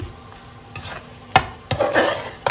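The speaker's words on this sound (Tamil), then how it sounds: "இது கொஞ்ச நேரம் ஃப்ரை ஆகட்டும்" Prawn biryani masala with mint and coriander fries in a pan, a soft sizzle under loud stirring. A spoon scrapes and clanks against the metal in a few sharp bursts.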